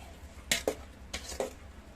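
A pot of boiling bean sprouts is stirred with a utensil, giving four short scraping clinks against the pot wall in two pairs, close and fairly quiet over a low background hum.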